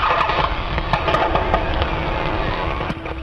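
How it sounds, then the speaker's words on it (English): Antarctic sea ice creaks and cracks in a dense, continuous crackle with scattered sharper pops, loud and close, with no voices. "this is the sound of sea ice in the Antarctic."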